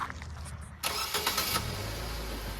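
A car engine cranks and catches at a tire shop, with the starter's brief whir giving way to a sudden loud start that settles into a steady, close idle.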